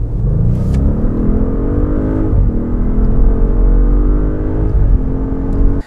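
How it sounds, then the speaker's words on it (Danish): Audi S8 with a 4.0 litre TFSI engine cruising on a highway, heard as a steady low cabin drone with a smooth rise in engine pitch and constant road rumble, with no talking. "Motoren i den her bil her, det er en 4 liters TFSI-motor."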